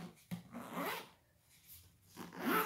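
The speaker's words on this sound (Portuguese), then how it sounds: "E essa daqui, ela é de zíper." A zipper runs around the zip-around cover of a large-print Bible in a few short, scratchy pulls, close and fairly quiet.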